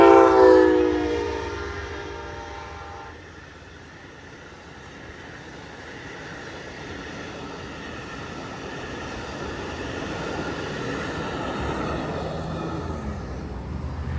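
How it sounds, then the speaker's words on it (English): Amtrak 41, a Chicago-to-Miami passenger train led by locomotives 337 and 14, sounds a loud horn blast at the start, then rolls past with a long, steady rumble and clatter of cars that builds gradually. No speech. "But first up we have Amtrak 41. This train is from Chicago to Miami."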